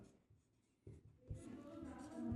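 Marker or chalk writing on a board during a Class 10 maths lesson on arithmetic progressions, soft scratchy strokes building steadily and growing louder toward the end, quiet and close with no talk.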